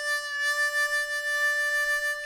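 A harmonica holds a steady chord with a weak hand-cupped wah, the tonal swell barely shifting; the single sustained note is alone, clear and moderately loud throughout.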